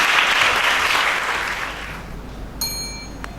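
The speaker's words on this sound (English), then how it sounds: "Give her a round of applause as she comes to the stage." Applause from a school audience at a reading competition final greets a reader walking to the stage, a dense wash of clapping that gradually fades, with a brief bright ding near the end.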